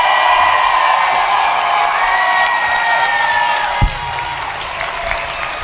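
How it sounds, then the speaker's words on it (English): Loud live audience applause fills a convention hall at an FFXIV fan event in Las Vegas, a dense steady wash of clapping with scattered cheers running throughout. "hopefully this applause will get across the ether to the fine planner"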